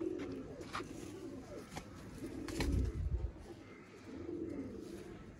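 Pigeons in a breeder's loft coo in low, repeated, rolling calls, several birds at moderate distance over a steady background rustle and murmur.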